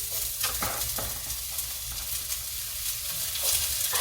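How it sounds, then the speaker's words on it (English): Onions fry in a little oil over very high heat, giving a dense, hissing sizzle with occasional stirring taps, steady and close throughout with no one speaking. "And then I cook my onions first."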